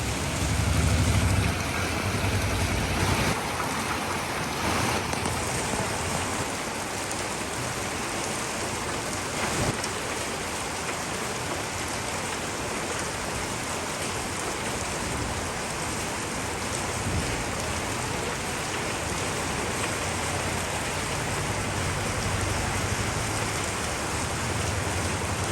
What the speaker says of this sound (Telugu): వాన అయితే సూపర్గా పడతా ఉంది